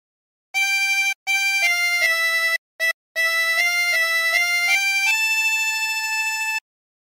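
Squid Game theme melody played on a 16-hole tremolo harmonica, clear wavering reedy notes in short phrases with brief gaps, ending on a long held tone, solo with no voices.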